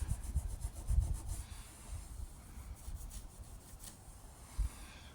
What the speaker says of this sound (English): we'll start rubbing it off again